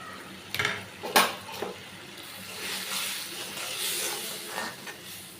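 A spatula stir-fries food in a pan, with several sharp scraping clatters against the metal early on, followed by a steady sizzling hiss with softer stirring strokes, all close by.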